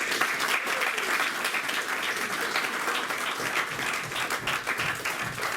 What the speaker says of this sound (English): give both fighters a big round of applause